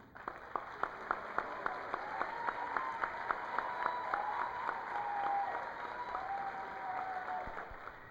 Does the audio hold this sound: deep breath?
no